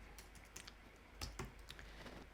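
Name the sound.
typing on a computer keyboard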